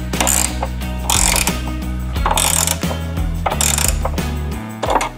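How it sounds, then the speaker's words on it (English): A ratcheting 5 mm Allen wrench tightens bolts on a color-matched headlight fairing of a Harley Fat Bob, giving repeated loud, close clicking bursts in an uneven rhythm. "come in here with our 5 mil Allen and tighten these down"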